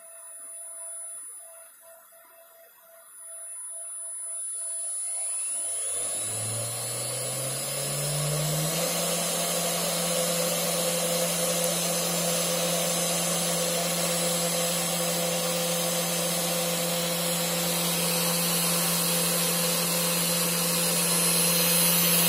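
A 500W DIY CNC spindle whirs up from rest, then holds a steady high-pitched whine near full speed, 12,000 rpm. It sounds loud and close, with no voices.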